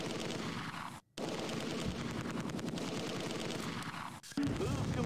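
An MG42 machine gun fires in Close Combat 2 as a dense, loud, continuous rattle of rapid shots. The fire breaks off twice in brief gaps and then resumes in the wartime battle.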